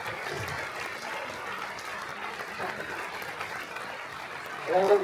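Guests at the Vence mayor's New Year ceremony applaud champion Flora Gauthier with steady, moderately loud clapping that holds evenly, a voice breaking in over it at the close.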